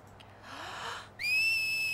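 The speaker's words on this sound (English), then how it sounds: "I'm really good at whistling myself, viewers" A clear, sustained whistle from the game Final Fantasy X HD, rising quickly into a steady bright tone after a softer breathy whoosh, loud and close with no talking.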